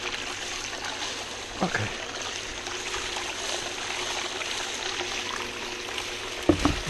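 Water running through a sluice box outdoors: a steady, continuous rushing trickle with faint splashes, and a short spoken word under the flow.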